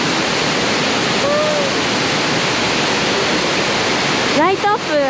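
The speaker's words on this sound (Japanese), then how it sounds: "すごい間近で夜の袋の滝が見えちゃいます" Fukuroda Falls in Ibaraki, Japan, lit up at night, roars as a loud, steady wash of falling water from close by, while someone speaks briefly over it.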